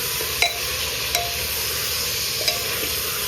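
Ginger garlic paste frying in a pan, giving a constant bright sizzle with three crisp spoon clicks against the metal, close and even, no speech.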